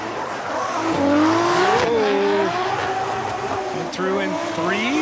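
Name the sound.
1,000 horsepower BMW drift car engine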